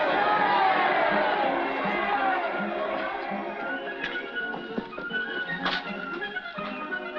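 A muffled, band-limited crowd murmur at a bullfight in Spain, from a 1946 British film, holds steady with scattered shouts and taps, and voices talk over it.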